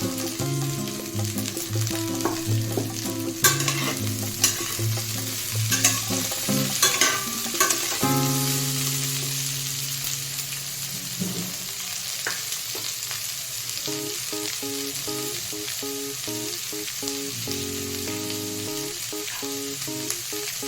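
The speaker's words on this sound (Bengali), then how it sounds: "পেঁয়াজ কুচিটা আমি দিয়ে দিচ্ছি" Chopped onion frying in a pan for a cauliflower curry, a steady sizzle with occasional stirring and clinks, with music playing underneath throughout.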